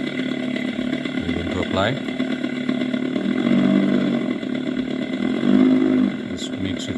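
Simulated vintage-mode engine sound from an Ola S1 Pro electric scooter, a steady low droning hum that swells as if throttled, running under a voice throughout.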